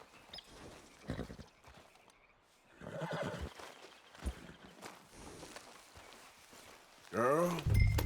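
Neighing and clip-clopping hooves from a horse in Red Dead Redemption 2, the whinnies loud and close at intervals, with hoofbeats and faint game chatter between them.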